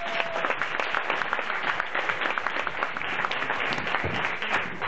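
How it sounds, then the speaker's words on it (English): Fairly quiet applause from a business meeting audience, a crowd clapping steadily and continuously throughout with scattered individual claps standing out, heard at a moderate distance. "So let's give him a round of applause."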